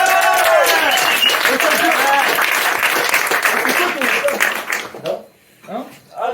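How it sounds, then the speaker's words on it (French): A large audience applauds loudly and steadily, with cheering voices mixed in, before the clapping thins out and fades near the end. "applaudissez bien fort avec moi"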